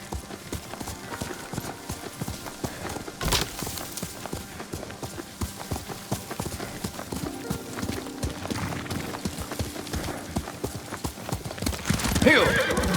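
Hooves clip-clop in a quick, steady rhythm as a horse gallops, ending with a loud whinny near the close, in the video game Ghost of Tsushima.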